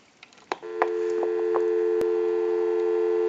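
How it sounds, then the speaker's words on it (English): A few clicks and taps lead into a steady, unbroken dial tone from an Automatic Electric Monophone 40 rotary desk telephone that holds to the end, with one sharp click midway. "We'll go ahead and give you some dial tone"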